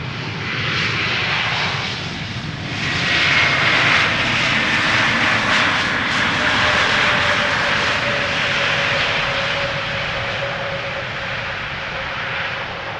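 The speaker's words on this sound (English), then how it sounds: "And this is ITA Air arriving from Rome. A321neo, flight 108." An ITA Airways Airbus A321neo, flight 108 arriving from Rome, comes in to land at Schiphol Airport with a loud, continuous jet engine roar that swells and fades slightly over thirteen seconds.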